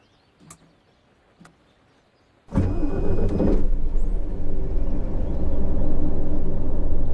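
A coach's engine starts with the ignition in Fernbus Coach Simulator. A couple of faint clicks come first, then the engine catches suddenly and settles into a loud, steady rumble that holds to the end.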